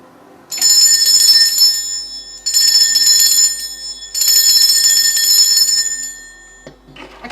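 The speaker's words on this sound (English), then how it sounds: "I'm going to ring my bell now." A bright metallic bell rings loudly in three sustained bursts separated by short pauses, with a faint sound after the last.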